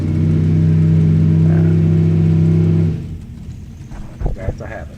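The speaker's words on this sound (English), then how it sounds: "you can't really hear me over burnouts, can you?" A drag racing car doing a burnout at a speed shootout, engine roaring loud and steady for about three seconds before cutting off, followed by quieter background rumble and a few bumps.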